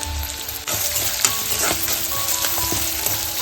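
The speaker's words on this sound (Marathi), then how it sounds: "हे कांदा मस्त परतवून घेतलाय" Onion sizzling and crackling in a hot pan with garlic and curry leaves, a steady frying hiss with occasional stirring scrapes and clinks.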